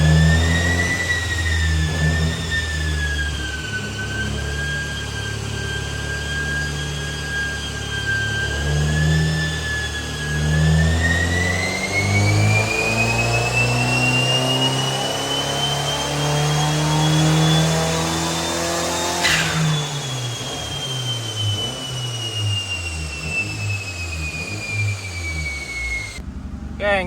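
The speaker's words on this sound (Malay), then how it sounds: "exhaust pun bunyi macam 3 silinder" A Perodua Myvi engine of about 72 horsepower revs up and down for a long stretch with a raspy, uneven, three-cylinder-like exhaust note, loud and close, building to a peak before easing off.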